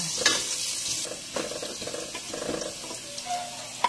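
Ginger goes into a pan of sizzling garlic and onion for chicken tinola, bringing soft, fairly quiet frying crackle with intermittent stirring scrapes and clicks.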